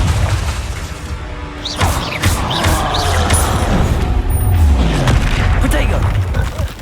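A Confringo fire-blast spell in the Hogwarts Legacy video game bursts with booming impacts and crackling debris amid busy combat effects, loud and sustained across the whole stretch, with a voice calling out over it.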